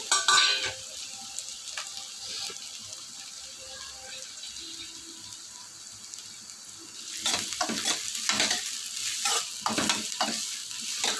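Onions sautéing in hot oil in a home kitchen pan, a soft steady sizzle that turns louder and busier with bursts of stirring and clattering near the end.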